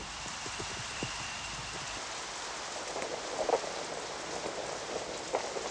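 Steady rain pours down over an ant colony during a battle, a dense even hiss with scattered drop impacts.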